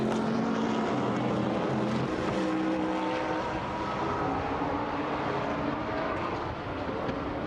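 GT1 race cars, including a Mercedes, roar past at the Nürburgring during a Blancpain Endurance Series race, a continuous loud engine wail with shifting pitches as cars sweep through.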